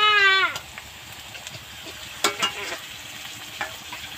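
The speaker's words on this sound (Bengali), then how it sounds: "এই মুহূর্তে আমি দিয়ে দেব" Ground spice paste hits a pan of potatoes and onions already fried with garlic, giving a sizzling fry with a few scattered stirring scrapes and clatters, close and moderately loud, with no talk.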